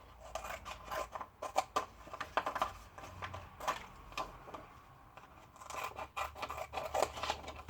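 Scissors snipping through a thin plastic slide during a craft project, with quiet, irregular scraping cuts in short bursts, close but faint, no talking.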